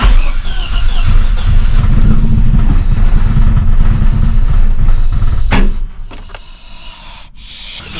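A BMW E30's engine cranks and catches, building into a steady loud rumbling run for several seconds before cutting off abruptly, followed by a few faint clicks and knocks in the quiet.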